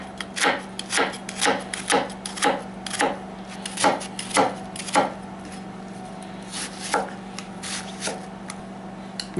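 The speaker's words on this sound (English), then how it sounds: "Give them a quick chop." Rhythmic knife chops through onion on a wooden board, a steady series of sharp taps close up over a low background hum.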